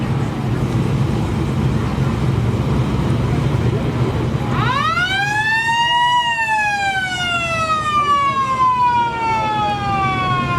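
A 1951 Ford V8 police sedan's mechanical siren winds up after several seconds of outdoor crowd noise, rising to a loud wail and then slowly falling in pitch as it winds down.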